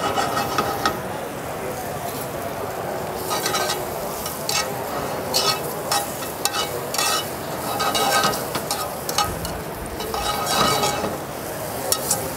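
Shiitake mushrooms sauté in butter and oil, a steady close sizzle and fry with repeated stirring scrapes and light clinks of a utensil against the pan throughout.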